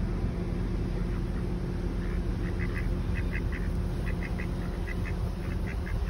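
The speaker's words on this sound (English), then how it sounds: "Bye, ducks." Several ducks quack in short repeated bursts at a lake, mid-distance, over a steady loud background rumble of wind or traffic, with no talking.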